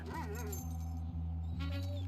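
A dog in GTA 5 yips and whimpers over a steady, droning electronic soundtrack that plays loudly throughout.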